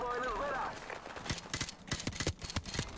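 Rapid bursts of helicopter gunfire in Call of Duty 4: Modern Warfare Remastered crack out in uneven volleys after a brief tonal voice-like sound, loud and close.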